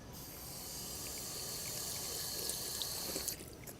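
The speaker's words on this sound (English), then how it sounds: "Man, there's a lot of water coming out here." Water gushing steadily from a public drinking fountain on a Manhattan street, a continuous close hiss and splash that cuts off sharply near the end.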